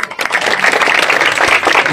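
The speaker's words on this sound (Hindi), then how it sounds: "जोरदार तालियां" Brief burst of enthusiastic applause from an audience at an outdoor political corner rally, dense clapping throughout with a faint voice underneath.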